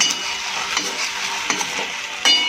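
Maggi manchurian tossed over a high flame, a bright hissing sizzle broken by several sharp spatula scrapes against the pan, close and steady.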